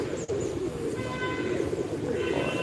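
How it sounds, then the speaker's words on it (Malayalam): A mixed flock of young and adult pigeons feeding together, giving low, soft coos beneath a steady background hum and rustle that runs the whole time. "കുഞ്ഞൻ പ്രാവുകളും അമ്മ പ്രാവുകളും അച്ഛൻ പ്രാവുകളും എല്ലാവരും കൂടി ഇതാ ഒരുമിച്ചിരുന്ന് ഭക്ഷണം കഴിക്കാനുണ്ട്"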